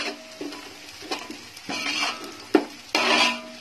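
Cashews with shahjeera, cinnamon and whole black pepper frying in a pan for veg pulao, soft sizzling broken by spoon scrapes and clinks against the pan, close and fairly quiet with no talk.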